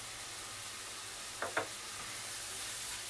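Three garlic cloves cook with onions in a pan under a steady, even sizzle, broken by two quick scraping clicks of a utensil near the middle.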